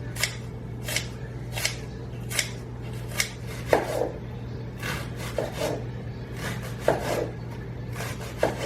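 A knife trims the bad pieces off artichokes on a board, giving crisp, evenly spaced cuts and scrapes, close and clear with no talking.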